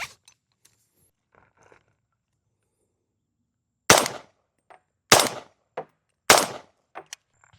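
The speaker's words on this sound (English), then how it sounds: "So I'm gonna shoot some more without the suppressor." Unsuppressed Daniel Defense PDW rifle in 300 Blackout firing three sharp, loud gunshots roughly a second apart on an outdoor range, each followed by a short echo, with faint handling noises between.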